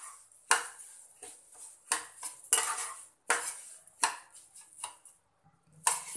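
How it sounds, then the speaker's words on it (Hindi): Metal spoon scraping and clinking against a pan while semolina halwa with sugar is stirred over a medium flame, irregular close knocks and scrapes with no talk. "मिक्स कर लें इसे अच्छी तरह से, फ्लेम को मीडियम ही रखना है।"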